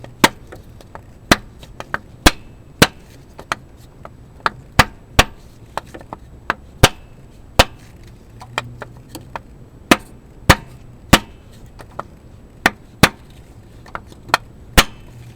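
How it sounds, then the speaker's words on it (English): Mallet strikes on a block of wood, driving a GM harmonic balancer onto a crankshaft: a steady run of sharp, loud knocks about every half second, close by, with no talk. "You may also need to drive it in with a block of wood and a mallet, just until you can get the bolt started."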